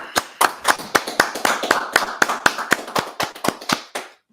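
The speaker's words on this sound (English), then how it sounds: "All right, clap it up." A crowd at a Passover religious gathering claps in a lively, uneven burst of hand claps lasting a few seconds before stopping abruptly.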